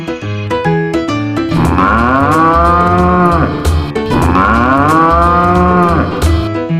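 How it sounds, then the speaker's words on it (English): A cow gives two long, drawn-out moos that swell and fade, heard clearly over light, bouncy music. "It's a cow."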